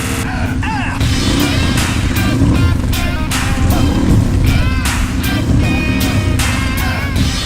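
A 1000cc turbo engine on an off-road vehicle revs hard near 8,000 RPM, producing a loud, sustained, close roar with rising and falling whine, mixed with other steady noise.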